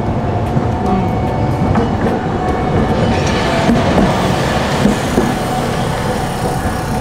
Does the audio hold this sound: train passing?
yes